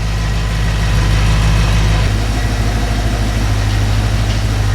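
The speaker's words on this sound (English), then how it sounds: "you can hear what a RS4 B7 sounds like being, let's say, a straight pipe" An Audi RS4 B7 V8 idles with a straight-pipe exhaust, a steady deep rumble that is loud and close, with an even low drone and no talking.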